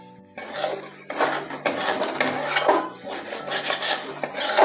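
A spatula scrapes and rasps steadily in a pan as prawn masala with ginger paste is stir-fried, in repeated close strokes with a faint sizzle beneath.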